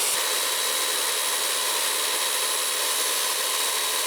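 An electric chainsaw runs at full speed with the trigger held, a loud, steady, high-pitched motor whine that stays unbroken and alone from start to finish.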